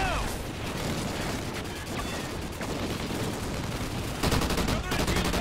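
Dense, continuous gunfire from machine guns in Call of Duty: Ghosts, sustained and loud throughout with overlapping bursts, mixed battle noise and a sharper stretch of rapid shots near the end.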